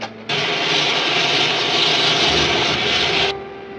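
A spaceship's jet engine in an old black-and-white science-fiction serial roars loudly and steadily for about three seconds, starting abruptly and then cutting off.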